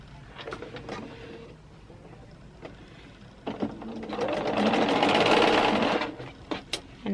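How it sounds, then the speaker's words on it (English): A sewing machine stitches quilt pieces in short bursts at first, then runs in a steady, louder whirring stretch before slowing to a stop, heard close up with no talking. "So I'm going to stitch this one."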